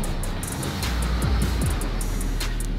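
A wrecked 2019 VW Golf GTI creeps along with something scraping underneath, producing a loud, continuous rumbling and hissing wash of noise close by with no talk.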